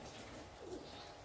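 Royal Teddy Nayab pigeons give a soft, low coo, faint and brief against a hissy background.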